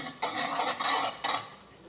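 Keto fudge mixture stirred in a pan with a utensil, a few scraping, clattering strokes against the metal, close and fairly loud, with no talking.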